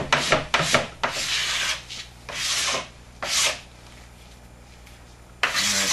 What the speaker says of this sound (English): this way is a lot easier than trying to run your scraper all the way down your board